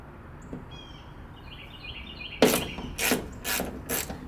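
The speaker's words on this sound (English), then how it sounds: "So now I'm going to loosen up these bolts." Ratchet loosening the bolts on a Mustang trunk, a quiet pause followed by several short, sharp clicking bursts in quick succession, close up with no talk.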